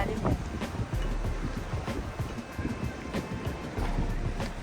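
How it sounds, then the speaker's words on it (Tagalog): Strong waves wash onto a lake shore at Selkirk Provincial Park, a steady rough surge under heavy wind buffeting, loud and close. "Grabe yung alon dito, tinan mo."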